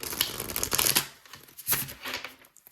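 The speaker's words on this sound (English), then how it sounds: "Let's shuffle these cards for you." Angel number cards being shuffled by hand during a card reading: a dense, crisp riffling and flapping of card stock in several bursts with short pauses between them. No one speaks.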